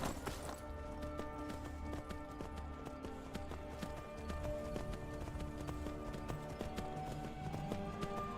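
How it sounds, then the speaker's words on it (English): Horse hooves clip-clop steadily in Skyrim, a regular trotting rhythm carrying on for several seconds over background game music and ambience. "There's the horse."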